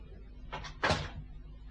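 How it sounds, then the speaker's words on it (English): An office door in a British TV murder-mystery drama is shut nearby: a soft double knock of handling, then a firmer thud as it closes, all fairly quiet against a low room hum. "Close the door."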